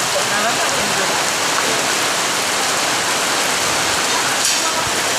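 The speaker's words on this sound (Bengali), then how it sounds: "এখানে সেই প্রচণ্ড বৃষ্টি হইতেছে" Heavy rain pours steadily at a market in Nilphamari, a dense, loud, unbroken hiss of water falling on surfaces close by.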